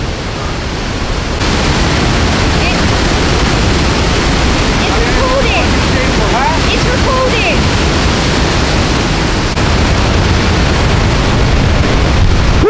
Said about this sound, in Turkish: inanılmaz gürül gürül akan bir su var.